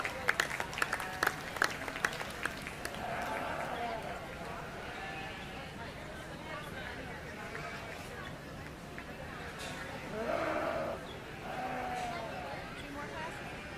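Audience applause for the exhibitors at a 4-H/FFA market lamb show, steady clapping in an arena that swells briefly toward the end, with a sheep or two bleating underneath.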